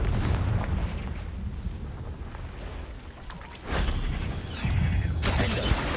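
A Confringo blasting spell explodes in Hogwarts Legacy, with rumbling blasts and a sharp, loud boom near the middle followed by another burst, close and forceful, with no talk.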